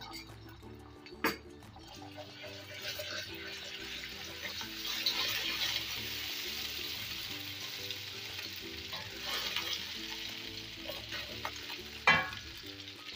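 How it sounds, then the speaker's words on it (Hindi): Egg sizzles in hot oil in a pan while being stirred, a steady frying hiss close by with occasional scraping clinks and a couple of sharp knocks, and faint talk underneath. "बस ये अंडा डाल के इसको फौरन से हमें चलाना है।"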